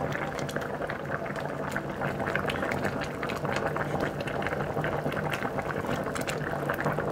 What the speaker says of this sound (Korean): 은근하게 졸이시면 됩니다